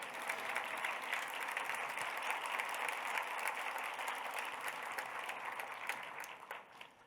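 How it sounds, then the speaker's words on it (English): Sustained applause from an audience at a Gift of Life donor celebration event, steady dense clapping throughout that tapers slightly toward the end, with no talk over it. "You can clap for that, sure."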